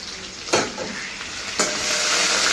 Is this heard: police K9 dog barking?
no